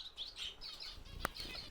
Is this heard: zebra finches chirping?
yes